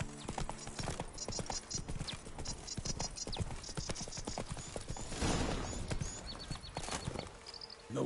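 Roach, the horse in The Witcher 3, gallops in a fast, continuous clip-clop of hooves under dense in-game ambience, steady and fairly loud throughout.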